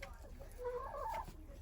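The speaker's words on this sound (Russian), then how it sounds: "курочки другие летают и клюют их комбикорм" Broiler chickens and hens cluck near a feeder, a few soft, short calls in the middle of a quiet moment with low background noise.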